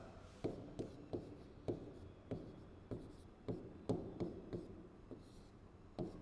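Chalk writes on a classroom board during a physical chemistry lesson, a series of sharp taps and scratchy strokes in an uneven rhythm, close and clear with no talk.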